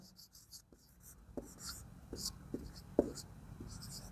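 Chalk or marker strokes on a board during a math lesson, scattered taps and scratches at a steady pace against a faint room background.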